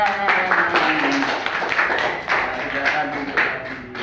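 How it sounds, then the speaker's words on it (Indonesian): A small group of students in a classroom claps briefly and unevenly at close range, with chatter and voices mixed in over the clapping. "Nah, kita beri tepuk tangan."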